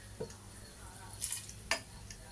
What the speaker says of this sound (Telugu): ఆయిల్ వేడిగా ఉందనేసి స్పూన్తో కలుపుతున్నాను